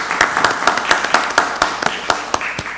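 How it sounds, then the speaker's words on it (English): A single person's hand clapping at a county board of commissioners meeting, a dozen or so sharp claps in a brisk, slightly uneven rhythm, close and clear in a quiet room. "let's just give that a round of applause"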